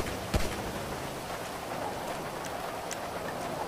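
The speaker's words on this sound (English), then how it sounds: "Oh my, this rain is loud as shit!" Loud rain pours in a video game, a constant dense hiss throughout with one brief thump near the start.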